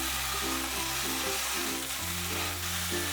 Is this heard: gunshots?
no